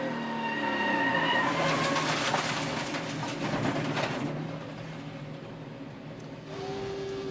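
A race car running on a flat left rear tire drones past with engine whine and scrubbing tire noise, the pitch sweeping as it moves, loud at first and easing off toward the end.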